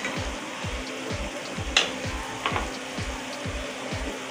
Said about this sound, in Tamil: இஞ்சி பூண்டு வெங்காயத்தோட பேஸ்ட் எல்லாம் பார்த்தீங்கன்னா நல்லா வதங்கிடுச்சு